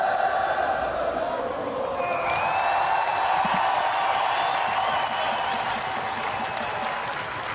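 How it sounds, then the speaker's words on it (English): Crowd at the FISE Montpellier BMX freestyle park men's final roars and cheers steadily, a dense loud wash of voices with occasional whoops rising above. "The crowd is unbelievable."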